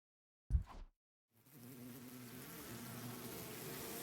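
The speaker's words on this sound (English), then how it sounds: "the bees that had been hovering near the ceiling descended with a terrible cacophony of beating wings" A swarm of bees in The Hundred Line video game descends with a buzzing drone of beating wings, rising after a brief thump and holding as a steady, moderately loud hum.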